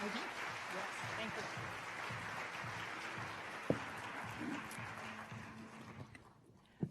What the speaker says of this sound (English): please join me in giving Dr. Ludwig a very warm round of applause